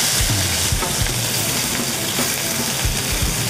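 Pickled vegetables stir-fried in a wok for Shanghai fried rice cakes, a loud steady sizzle with scraping stirring strokes and clanks of the spatula against the pan.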